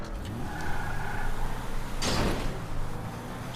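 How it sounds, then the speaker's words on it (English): A car door gets smashed off in GTA 5 Online, a single loud scraping crunch about halfway through, set against low engine rumble. "Now, smash the door off"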